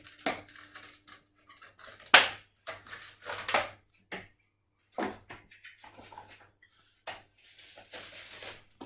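A kitchen cupboard is opened while baking a sponge cake to take out paper cake cases, giving a string of sharp clunks, knocks and light rustles spaced across quiet gaps, with no talking.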